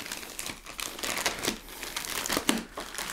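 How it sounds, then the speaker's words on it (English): Plastic wrapping crinkles and crackles as a package holding the July issue of White Dwarf magazine is unwrapped close up, a busy run of irregular rustles and sharp crinkles. "let's unwrap and have a look at July's issue of White Dwarf"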